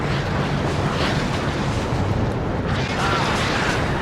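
Artillery shells pounding German positions in the WARNO war game, a continuous loud roar of overlapping blasts and rumbling explosions with no clear gaps, dense and close throughout.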